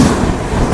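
Azad Hind Superfast Express, a daily Howrah–Pune express, rushes past on the opposite track at high speed, a dense steady roar of wheels and carriages filling the whole moment without a break.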